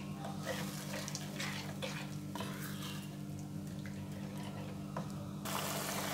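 Liquid for a Bengali shol fish curry boiling in a pot, a continuous close bubbling hiss with occasional light clinks that grows slightly louder at the end, no voices over it.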